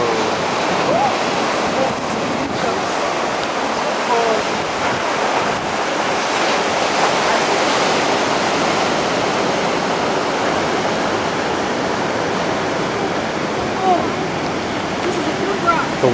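Steady wash of surf breaking on a beach, a continuous broadband roar with wind buffeting the microphone throughout, fairly close and loud with no clear pauses.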